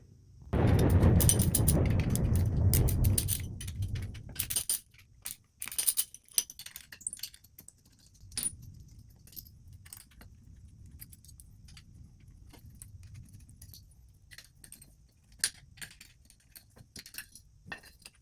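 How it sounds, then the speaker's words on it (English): Top hat screws on a Subaru's front suspension being removed with a 5mm hex key: metallic jingling and clinking near the mic, loud at first over a rumbling background, then scattered small ticks and clinks over a quieter hum. "we're going to take off these screws for the top hat using a 5mm hex key"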